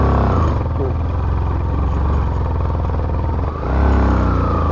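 A motorcycle climbing uphill on a rural mountain road, its engine droning loud and close with a steady labored rumble that briefly dips and then pulls again, with a voice speaking over it.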